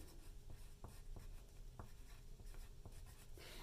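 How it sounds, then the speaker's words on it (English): Name and date handwritten on a paper worksheet, heard as faint pen strokes and scratches at irregular intervals under a steady background hiss. "So, I'm going to write my name and date again."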